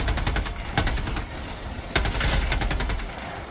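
Rapid automatic gunfire in Helldivers 2, close and loud, with dense rattling bursts and a few heavier sharp shots standing out amid the continuous fire.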